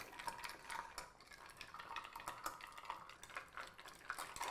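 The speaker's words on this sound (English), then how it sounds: "add your ice, and let's stir it down." A cocktail is stirred with clear ice in a mixing glass, giving a soft, continuous rattling clink of ice and spoon, fairly quiet and close, with no talking over it.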